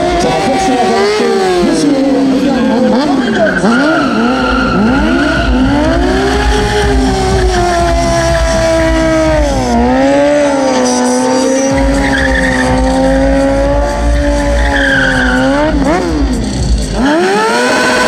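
A car drifts on a demo track at the 2017 Luxembourg International Motor Show drift and stunt show, its engine revving up and down in sweeping waves over continuous loud tire squeal and skidding for about eighteen seconds, close and dominant.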